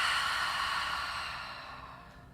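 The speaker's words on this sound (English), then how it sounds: "we are going to exhale through our mouth like so" A deep, slow exhale through the mouth during a guided breathing exercise, a close breathy whoosh that gradually fades away.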